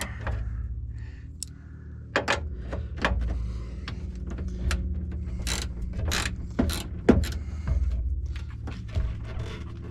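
A wrench working a small 8 to 10mm bolt on a Land Rover LR4 fender flare, a run of sharp metallic clicks and ratcheting taps, close and uneven.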